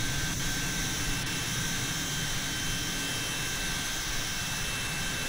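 A Mirage 3C jet aircraft in Microsoft Flight Simulator 2020 gives a steady, dense roar with a thin high whine, constant in level throughout and unbroken by talk.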